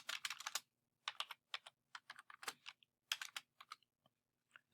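Computer keyboard typing while entering a spreadsheet formula in Excel: quick clusters of crisp, close keystrokes separated by short pauses, quiet and alone.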